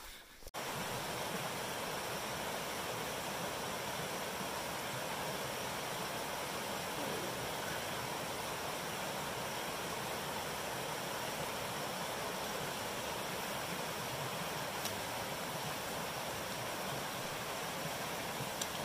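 Continuous rush of running water from a mountain stream near Red's Meadow on the John Muir Trail, a steady broadband hiss that stays even and moderately faint throughout with no voices.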